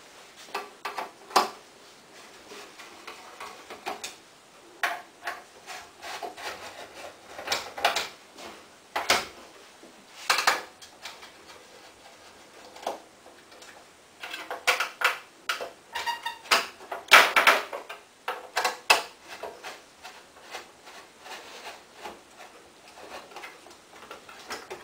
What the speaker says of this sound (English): we're going to remove the front panel by removing the four screws